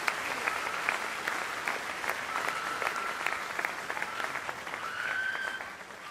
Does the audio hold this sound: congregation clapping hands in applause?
yes